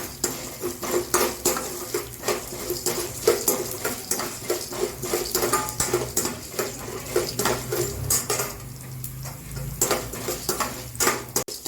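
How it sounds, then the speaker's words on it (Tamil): Urad dal dry-roasting in a pan for uthappam chutney, with steady rattling and scraping as a spatula stirs the lentils against the metal, plus occasional louder clinks, close and continuous. "உளுத்தம்பருப்பை வறுத்துக்கலாம்."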